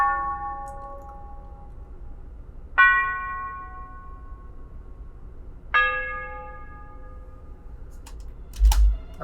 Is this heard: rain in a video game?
no